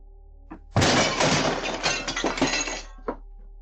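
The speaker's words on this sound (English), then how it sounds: "This guy lost it and kicked in a glass door." A glass door is kicked in and shatters in one loud, sudden crash, with shards clinking and raining down for about two seconds, and a smaller knock before and after.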